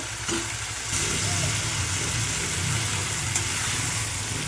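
Potatoes dropped into hot oil with frying spices for a jumbo soybean curry give off a steady, close sizzling hiss that holds evenly throughout, with a low background hum beneath.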